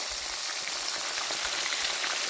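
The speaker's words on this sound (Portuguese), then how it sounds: "Tá fritando." Traíra river fish frying in a pan of hot oil, a dense continuous sizzle and crackle, close and steady with no break, with no talking over it.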